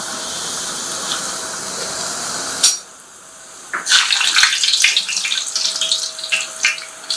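Puris dropped into hot oil start sizzling with a bright, crackling hiss after a brief quiet moment. The frying stays steady and close with small bubbling pops throughout.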